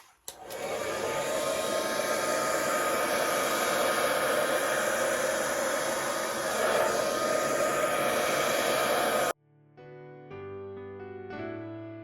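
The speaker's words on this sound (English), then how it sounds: "I'm just going to blow that on that with the hairdryer" A hairdryer blows steadily at close range on acrylic pour paint for about nine seconds, a loud even whoosh, then cuts off abruptly as soft music takes over.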